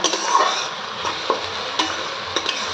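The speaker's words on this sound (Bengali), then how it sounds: "পেঁয়াজের সঙ্গে আদা রসুন কাঁচা লঙ্কা দিয়ে দিলাম, এবার এটাকে ভালো করে ভেজে ভেজে নেব" Onion, ginger, garlic and green chili fry in a pan with a steady close sizzle, broken by a few sharp scrapes and knocks as the mixture is stirred.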